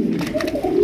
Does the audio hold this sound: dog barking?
no